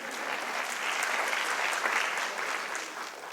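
An audience at a Cerritos College convocation claps steadily, a dense, even wash of many hands applauding from a moderate distance for a few seconds without a break.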